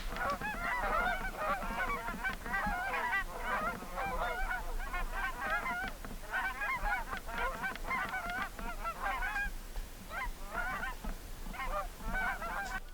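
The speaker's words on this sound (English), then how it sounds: "there were probably about 300 geese there. I guesstimated. That just flew over." A huge flock of roughly 300 geese passes overhead, their honking a dense, continuous clamour of overlapping calls that stays loud and busy throughout, outdoors near a winter canvas-tent camp.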